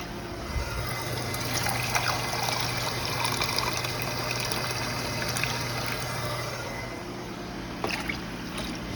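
Water pouring steadily into a pot of rice, eight cups for four cups of rice, a continuous close trickle and splash lasting about nine seconds with no talk.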